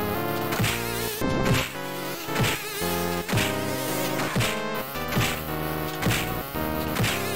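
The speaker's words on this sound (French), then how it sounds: "Si c'est des moustiques comme ça sur tous les étages" Insect enemies droning in the Sega Mega Drive action game Beyond Oasis, a steady game-audio buzz woven through looping music with regular rhythmic hits, loud and continuous with no talk.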